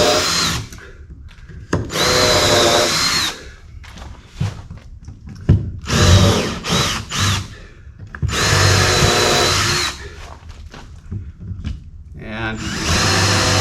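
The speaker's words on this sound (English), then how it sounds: "I'm going to drill the rest of my fastener holes into the frames." A power drill whirs close by, drilling fastener holes into wooden boat frames in several bursts of a few seconds each, separated by short pauses and occasional clunks.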